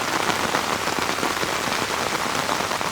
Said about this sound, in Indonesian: untuk saat ini hujan begini teman-teman ya